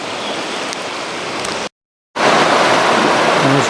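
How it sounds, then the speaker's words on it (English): Chilly creek water rushes steadily around a hiker wading across Big Wilson Creek in Maine's 100-Mile Wilderness, a loud continuous wash that briefly cuts out and returns. "Here's John fording the big Wilson Creek."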